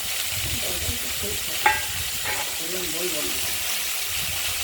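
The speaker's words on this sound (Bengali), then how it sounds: "কড়াইতে তেল গরম করে কুমড়োগুলো আমরা দিয়ে দিলাম" Steady frying hiss of pumpkin pieces in hot oil in a wok fills the background, with a few soft clinks and faint voices murmuring underneath.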